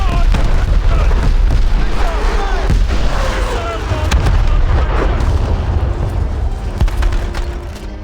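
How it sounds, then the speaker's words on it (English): Missile launches and hits on a naval ship in War Thunder Mobile roar as loud, dense booms and rumbling blasts that run continuously throughout, with game voice callouts mixed in. "Missile launched in our direction! Enemy hit!"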